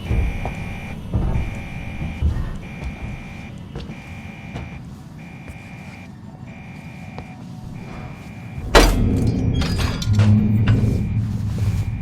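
A blaring alarm in the video game Alien Isolation pulses in a regular on-off pattern over a dense, rumbling background. A loud clatter breaks in near the end.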